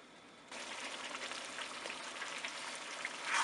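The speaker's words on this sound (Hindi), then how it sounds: "अब हम चिकन को भून लेते हैं।" Chicken with spices frying in a pan, a steady dense sizzle that starts abruptly and holds evenly at moderate volume, close and alone with no talking.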